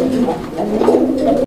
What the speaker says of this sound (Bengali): হলুদ কালার বোম্বাই কবুতরের সেকেন্ড পেয়ারের নটটা ডাকতেছে